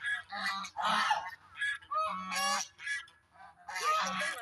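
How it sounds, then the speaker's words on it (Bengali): Large dark ducks honk loudly in repeated goose-like bursts, several calls overlapping close by with short gaps between them. "এগুলা হচ্ছে যে বড় বড় ডার্ক হাঁসগুলা, বড় বড় হাঁসগুলা আছে না এই লেগের ওই পাশে।"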